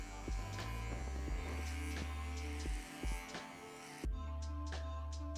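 Electric hair clippers with a number 8 guard and the lever fully closed run through the top of the hair, a steady close buzzing hum with brief dips and restarts as the clippers pass.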